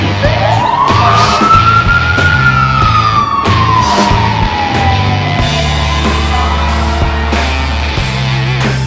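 Fire engine siren wailing on a call to reported smoke, one long rising and falling sweep that dominates loudly over a steady low engine rumble and road noise.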